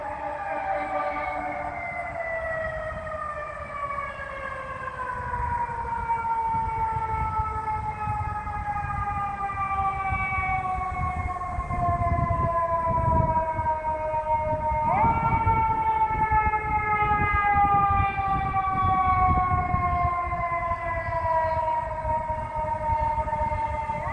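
A fire truck siren on a street near a cemetery sweeps in long falling wails, loud and close, then jumps back up and carries on over rumbling traffic.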